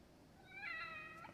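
A cat in The Evil Within gives one short, soft meow against a quiet, faintly noisy background.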